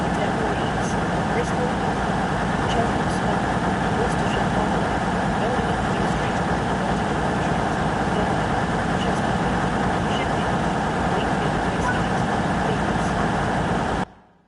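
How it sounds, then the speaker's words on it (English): The diesel engines of a BR Class 220 Voyager in Train Sim World 6 produce a loud, steady roar that runs unbroken for about fourteen seconds before cutting off, with voices faintly audible beneath it. "It's so loud, the engines."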